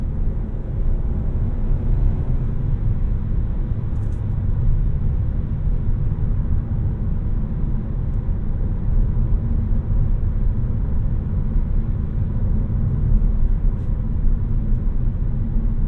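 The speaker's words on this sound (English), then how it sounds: "let you guys listen to how the road is at highway speeds" Steady road and tire rumble inside a 2023 Kia K5 GT-Line sedan cruising at highway speed, a constant low drone with muted wind hiss and no talking.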